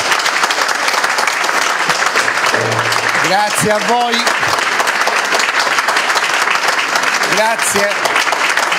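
A crowd at a political party's press presentation in Bari claps loudly and continuously, with someone briefly speaking thanks over the applause.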